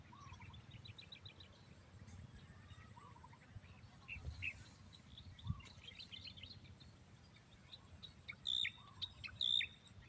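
Birds chirp and tweet in short, faint bursts over low, steady ambient noise in a quiet onion field in the countryside of Nueva Ecija, Philippines.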